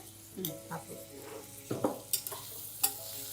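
Ginger garlic paste frying in a pan while paneer biryani is made, soft sizzling with a few stirring scrapes and light clinks of utensil on the pan, close and fairly quiet.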